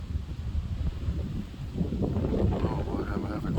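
Wind gusts outdoors beside a grassy spot where birds are being photographed, producing a steady low rumble of buffeting against the microphone that grows slightly stronger toward the end.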